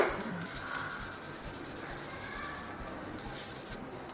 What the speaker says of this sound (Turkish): Birinci kat boyayı atmadan önce zımpara yapıyoruz